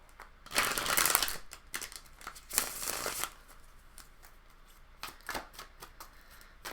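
Tarot cards being shuffled by hand in quiet, close bursts: a long riffling run, a second shorter riffle, then lighter scattered flicks and taps as the deck settles.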